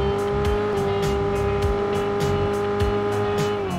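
A McLaren car in a mobile battle-royale video game gives off a steady synthetic engine whine with a sustained tone, and rhythmic whooshing pulses repeat through the boost effect, loud and continuous.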